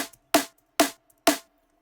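Three layered drum and bass snare samples struck together hit three times in a steady rhythm, each a sharp, bright crack with a short decaying tail and a faint metallic ring, loud and close with silence between.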